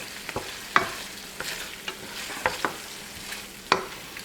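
Creamy chicken marsala sauce cooks in a hot pan, stirred with scattered scraping clicks and soft taps over a low, steady sizzle, close up and with no voices.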